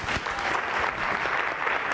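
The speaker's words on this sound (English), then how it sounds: "we want to make sure that we give them a big round of applause" Audience at a District 4 event applauding military service members and their families, a dense, steady round of clapping from a sizable crowd filling the whole short moment.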